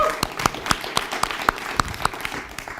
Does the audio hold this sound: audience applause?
yes